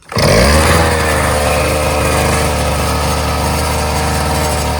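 A worn-out pocket bike's small engine starts up and holds a loud, steady buzzing idle close by, with a strong low drone and dense high overtones throughout and no talking.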